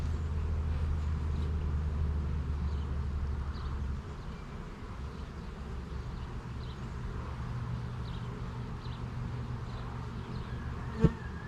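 A messy honeybee swarm produces a dense, unbroken buzzing drone, close and steady throughout, with a brief sharp knock near the end.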